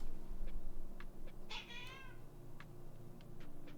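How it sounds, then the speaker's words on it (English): A loud, whiny house cat gives one drawn-out meow with wavering pitch, plus a few short clicks and faint scuffles, against a quiet indoor room hum. "You're like the loudest cat I've ever met."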